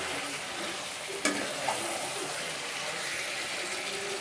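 Chicken simmers in a pan with tomatoes and four green chillies, cooking in the tomato juice without added water, giving a steady close sizzle and bubbling with a couple of brief clinks of stirring and no talking.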